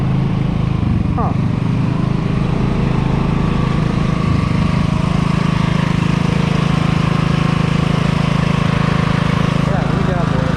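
A mud mower engine runs loud and steady throughout, a continuous low droning hum with a strong low pitch, staying close and unbroken for the whole stretch.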